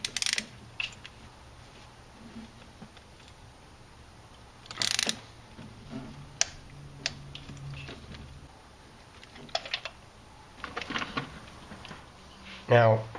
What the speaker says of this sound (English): I do have a torque wrench right here.